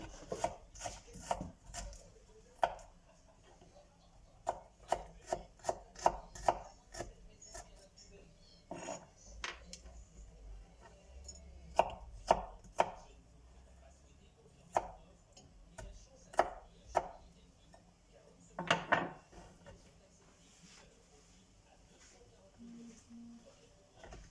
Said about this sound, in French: Ensuite, je vais couper mon ail.